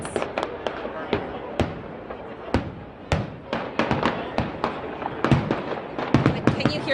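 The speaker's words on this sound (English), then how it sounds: "Can you hear those cannons going off?" Cannons fire during the Gasparilla pirate invasion in Tampa, Florida, giving many sharp, distant-sounding bangs in an irregular series over a bustling outdoor crowd, with voices talking throughout.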